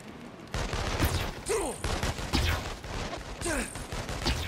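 Bursts of gunfire in the open-world superhero game Infamous Second Son, with loud repeated shots and rattling volleys over a dense combat din, plus sweeping ability or whoosh effects.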